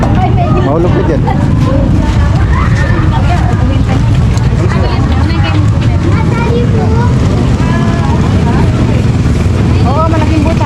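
Motorcycle ride with a loud, steady engine and road rumble filling the whole stretch, while people talk over it.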